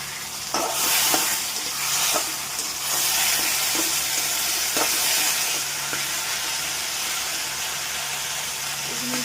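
A paste of cumin, tomato, ginger and green chili frying in a pan, a dense, constant sizzle with repeated spatula scrapes and knocks at an irregular rhythm, close by, no speech.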